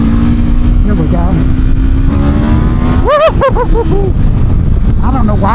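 Aprilia RSV4 1100 Factory superbike (2026) ridden at speed, a loud steady engine drone with rising rev sweeps and gear-change blips around the middle and end, wind noise throughout.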